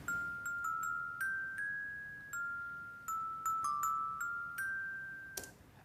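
A film-score bell motif, a series of clear struck bell tones sounding one after another at a slow, uneven pace, each ringing and decaying, ending with a brighter final hit, with no voices.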